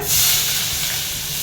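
Shallots sizzling in hot oil while being stirred in a pan for chicken gravy, a loud, bright, continuous frying hiss close up, steady throughout with no talking.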